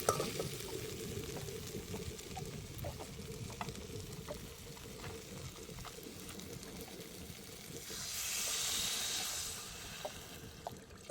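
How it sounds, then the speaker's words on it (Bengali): Water poured into a pan of sizzling crab curry while cooking on a boat, a faint low bubbling and splashing with a brief louder rushing pour near the end. "এবার জল দিয়ে দেবো।"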